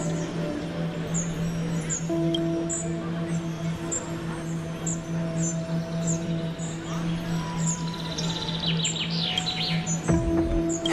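A small bird perched on a shoulder in a video game chirps in a rapid, repeated series of short, high tweets over a steady droning ambient hum.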